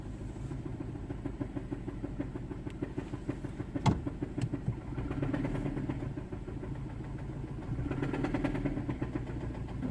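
A 2007 Saturn Ion that has sat unused for a long time, its engine running rough with harmonic hum, rising in two revs near and loud, with a sharp knock or click partway through.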